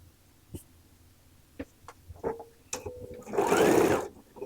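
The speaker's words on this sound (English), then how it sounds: "I'm going to back tack" A sewing machine back tacks while stitching a quilt binding closed, giving short, quiet bursts of stitching followed by a louder, sustained run near the end.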